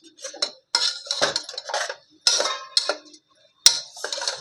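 Eggplant rice being stirred in a pot, a series of scraping and clinking strokes of a spoon against metal in short bursts separated by brief pauses, close and clear.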